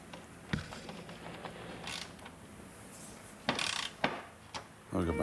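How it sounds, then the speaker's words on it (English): Ratchet tightening the headlight assembly bolts on a 2009-2011 Ford Flex, with a few quiet clicking, creaking turns and scattered clunks, close up and sparse. "I've got my ratchet."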